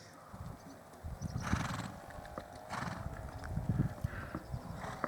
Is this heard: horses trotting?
yes